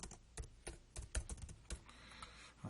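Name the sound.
typing text on computer keyboard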